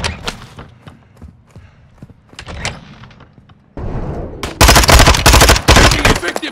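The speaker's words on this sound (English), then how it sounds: "Taking effective fire!" Gunfire in Call of Duty Modern Warfare II DMZ, scattered single shots and short bursts at first, then a sudden loud sustained burst of rapid automatic fire close by at the end.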